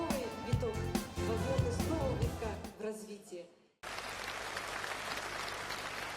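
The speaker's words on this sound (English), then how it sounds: "Please welcome Mr. Mikhail Sergeyevich Gorbachev with your warmest applause." At a Tiens anniversary celebration in Moscow, loud music with a voice over it plays for a few seconds, then cuts to broad, steady applause from a large hall audience welcoming a speaker.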